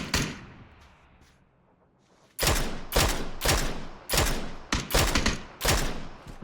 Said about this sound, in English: I think someone else is taking shots at him.